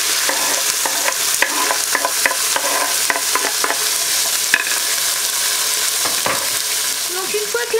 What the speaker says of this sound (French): je les mets avec mes oignons et je vais bien les faire dorer aussi